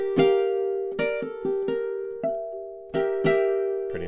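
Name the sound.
fingerstyle ukulele melody, spooky song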